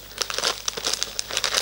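Crinkly plastic snack packet being handled and opened, in a pack containing puffed corn snacks, a croissant and chocolate wafers, giving dense, continuous crackling bursts close by with no voices.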